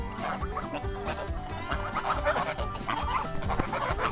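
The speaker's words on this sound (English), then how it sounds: "The geese want to say hi." Several geese honk and cackle close by, overlapping calls in an excited, continuous chatter.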